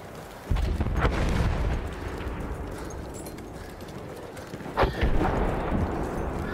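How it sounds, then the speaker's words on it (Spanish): A horse gallops in the World War I shooter game Battlefield 1, its rapid hoofbeats loud and close amid booming in-game explosions and battlefield rumble, with a sharp blast near the middle. "Mató el puto caballo apareciendo."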